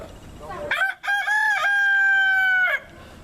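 A rooster crows outside a cage at Indian Echo Caverns, one loud close cock-a-doodle-doo sustained for about two seconds after a short preceding call, with faint background talk.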